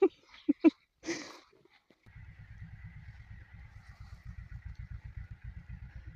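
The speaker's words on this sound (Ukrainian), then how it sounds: "Ковирається Юра трактором завів" A tractor's steady, rhythmic diesel engine chugging nearby while digging in a forest, low and pulsing, with a faint whine above; a few sharp knocks and a brief rustle come before it starts.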